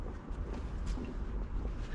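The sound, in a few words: wind at a sea fishing spot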